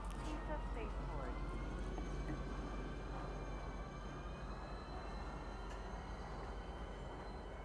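Steady rumble of a passenger train ride in the space game Star Citizen, a continuous low rolling drone with faint tonal hums, heard up close and unbroken for the whole stretch.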